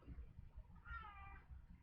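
A house cat gives one soft, drawn-out meow from a little distance, sitting quietly over a low indoor rumble with no talking.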